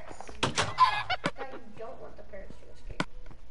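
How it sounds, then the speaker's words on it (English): Parrot chirps and squawks in the video game Minecraft, several short bright calls spread across the moment, mixed with other game noises while people talk over them. "I hear the parrot sound"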